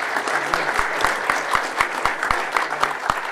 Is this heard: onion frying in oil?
no